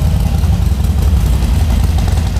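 Harley-Davidson Sportster motorcycle with a dry-sump oil system idles close by, a loud, steady low engine rumble with no talk.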